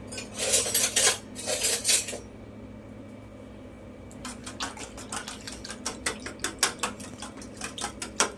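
A mixture with jaggery and cardamom powder is beaten in a bowl: two short bursts of clattering, a pause, then a fast run of sharp metallic clinks from a utensil striking the dish, close and crisp.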